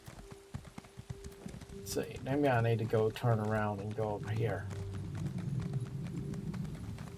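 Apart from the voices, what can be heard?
horse hooves trotting in video game Elder Scrolls Online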